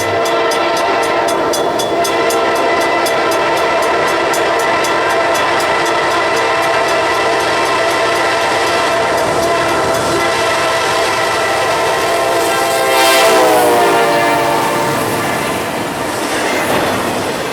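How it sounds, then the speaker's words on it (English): Norfolk Southern intermodal freight train 210 rumbles steadily past a rail yard, its horn sounding in a long sustained blast near the end, loud and close throughout. "catching NS Train 210 pulling into Simpson Yard for a pickup"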